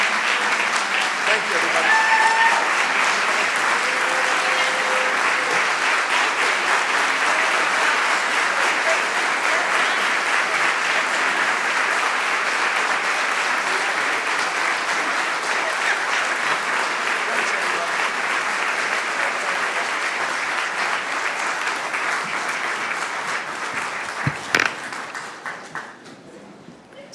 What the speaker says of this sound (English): Thank you for Governor Shapiro being so generous and warm in your applause.